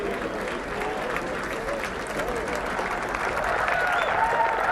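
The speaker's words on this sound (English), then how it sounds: "we heard the applause as Tiger hit his tee shot from behind here." Golf gallery at the 2001 Masters Tournament applauding a tee shot, sustained crowd clapping heard at a distance beneath a commentator's talk, swelling slightly near the end.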